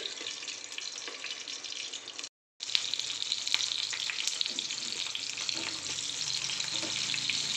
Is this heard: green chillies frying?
yes